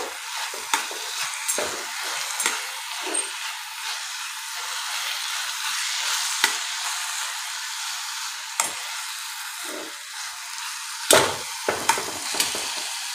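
Carrot halwa being stirred in a pan after cardamom powder is added, giving a steady soft scraping and shuffling with a faint sizzle, punctuated by occasional louder knocks of the spoon against the pan.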